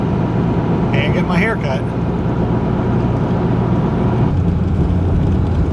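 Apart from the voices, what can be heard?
car being driven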